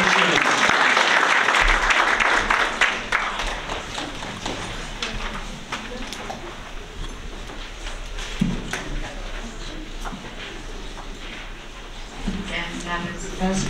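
Audience applause fills a school board meeting room in Sitka, loud and sustained at first, then thinning into scattered clapping with some talk underneath as it winds down.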